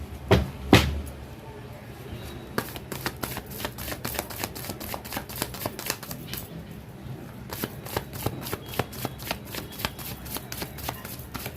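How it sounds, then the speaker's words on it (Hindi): Tarot cards shuffled by hand in a steady run of crisp riffling flicks and slaps, close and fairly loud, with a couple of sharper knocks at the start and no talking. "कार्ड को एक बार फिर से अच्छी तरह मिक्स कर लेती हूँ।"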